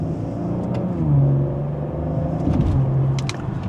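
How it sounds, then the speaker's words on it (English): A Maserati Ghibli sports sedan engine revs and pulls in sport mode, second gear, with a deep, rising hum as the car accelerates, heard from inside, steady and fairly loud. "with a mild acceleration, plenty of power to get this up and moving"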